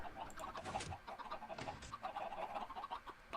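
Minecraft chickens cluck in repeated bursts on a Nether chicken farm, with bright higher squawks mixed in over a steady busy background, continuous for a few seconds.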